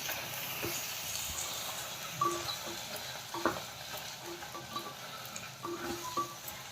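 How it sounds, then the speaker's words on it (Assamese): Mutton curry with potatoes stirred in a pan, giving soft scraping and clinking strokes over a low steady sizzle, with a few sharper knocks from the spoon against the pan. "এতিয়া আমি লৰাই দিম।"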